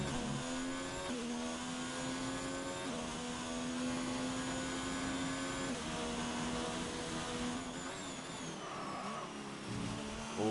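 An F2 race car in a racing game at Bahrain screams steadily at high revs through a lap, its engine note rising and dropping with gear changes, loud and continuous with no talk.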